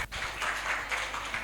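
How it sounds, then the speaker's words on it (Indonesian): A class in a micro-teaching lesson on global warming claps together, a short burst of steady applause from a small group in a room, moderate in volume with no talk over it. "tepuk tangan dulu dong kita semua"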